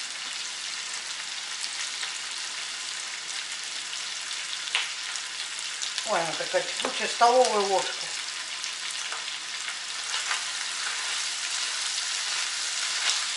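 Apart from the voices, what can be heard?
onion and potatoes frying in a pan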